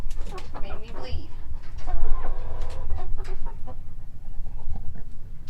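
Hens and a rooster cluck and squawk close by inside a mobile chicken coop, with busy, overlapping calls throughout and some people talking among the birds.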